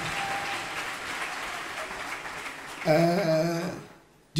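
Applause from a church congregation, a dense crackling patter filling the room for a few seconds before a brief sustained sung or chanted voice cuts in and the sound drops away.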